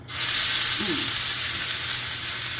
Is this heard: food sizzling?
yes